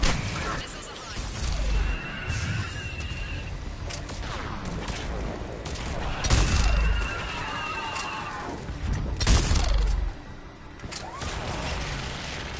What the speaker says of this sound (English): Missiles are hot.